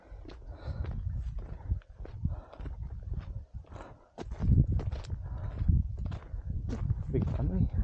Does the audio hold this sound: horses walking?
yes